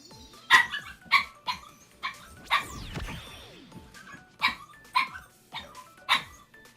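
An excited female dog barks in a rapid series of sharp, fairly close yips and barks, about a dozen bursts with short gaps between them.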